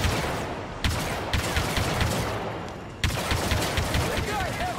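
Heavy, sustained blaster and gunfire in Star Wars Battlefront 2, loud and continuous with sharp individual shots and two sudden surges, voices faintly mixed in.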